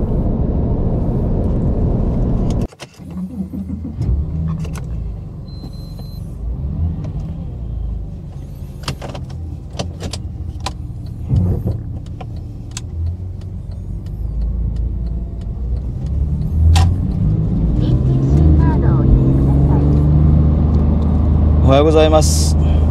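A Porsche 911 Carrera pulls away from a standstill, its engine a steady low rumble that swells toward the end, with someone talking over the drive.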